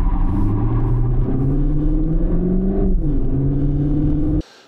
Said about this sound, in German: Die Räder drehen durch ohne Ende.